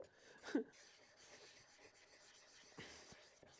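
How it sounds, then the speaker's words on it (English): A hand plane blade being sharpened in small circular strokes on a sharpening stone gives a soft, faint, steady rasping rub with a couple of slightly louder scrapes. "So I'm doing little circular motions now, trying to use all the stone."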